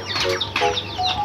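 Backyard chickens cluck and chatter in short bursts close by, several birds overlapping in quick uneven calls.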